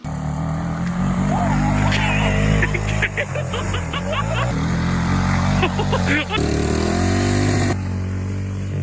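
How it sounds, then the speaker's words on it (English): A gas four-stroke EZGO golf cart engine runs steadily up close, a continuous loud droning hum with some revving fluctuation, while people talk over it throughout. "Still runs, still drives. Easy go golf cart, gas, 4-stroke, runs."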